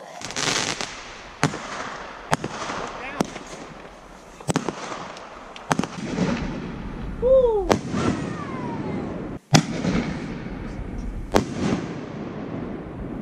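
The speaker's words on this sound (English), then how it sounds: "those mortars absolutely echoed all the way across the whole waterway" Firework mortars launched and bursting outdoors in the Ozarks, sharp booming explosions repeating irregularly every second or two and echoing across a waterway, with a whistling rocket rising midway and faint voices in between.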